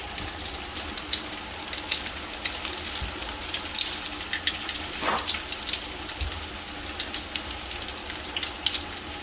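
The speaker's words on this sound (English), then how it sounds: "It's not entirely safe to stick your face over top of a pot of boiling oil." Bubbling, crackling hiss of catfish frying in a pot of boiling oil, steady and close, with occasional sharper pops and no voices.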